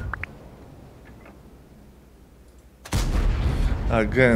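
A tank cannon fires in a tank battle video game with a sudden loud boom that rolls into sustained rumble after a quieter stretch of faint ticks, with someone speaking briefly.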